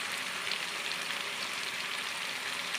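Marinated chicken pieces hit fried onions in a hot pan, giving a steady, even hiss of sizzling oil that holds at moderate volume for a few seconds with no voices.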